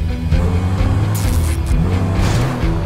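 A BMW M3 GTR is driven in GTA 5, its engine droning steadily and close with a rising and falling pitch and a faint hiss of tires over the road.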